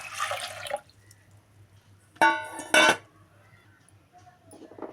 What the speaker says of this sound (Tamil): இந்த பருப்புக்கு தேவையான அளவு தண்ணி சேர்த்துக்கலாம்